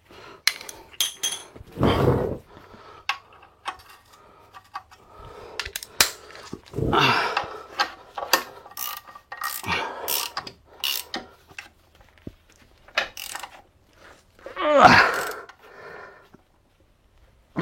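Ratchet wrench clicking in short bursts while tightening clutch screws on a first-generation Renault Twingo in a home garage, with irregular metallic clatter, pauses and handling noises between turns.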